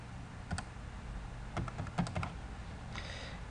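A password being typed on a computer keyboard: short quiet bursts of key clicks in small clusters with pauses between, close and soft, no talking.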